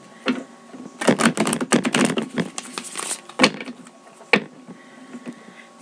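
Tarot cards being shuffled by hand in a riffling series of crisp, papery bursts, loud and close, with short pauses between flurries and no talking.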